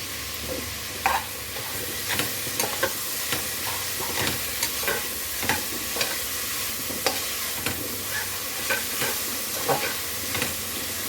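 Tomatoes and onions fry in a pan, sizzling steadily while a spoon scrapes and stirs them in irregular clacks, close and loud, with no voices.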